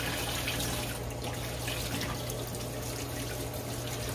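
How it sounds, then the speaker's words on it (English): Running water splashing and trickling as dried peas are washed for Jamaican rice and peas, a steady faint wash of liquid with a low hum beneath and no talk. "So you're gonna have to wash your peas."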